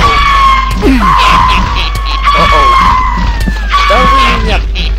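Enemies in the game Gothic shout loudly. The voices come as strained, pitched cries and calls that rise and fall in several bursts, over a steady low hum, with no pauses between them.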